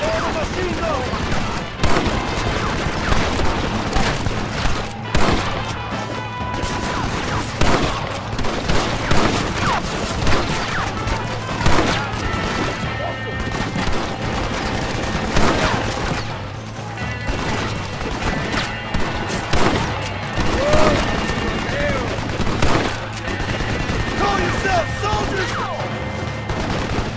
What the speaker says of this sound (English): Look out, John! They have a machine gun!